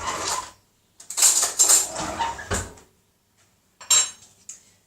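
A bowl taken out of a kitchen cupboard for satay marinade, with a few close ceramic clinks and clatters in short bursts separated by quiet gaps.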